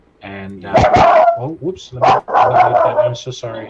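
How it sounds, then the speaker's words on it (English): A dog barks several times in reaction to the front door, its sharp bursts landing between and over a nearby voice talking. "That's the dog reacting to the front door."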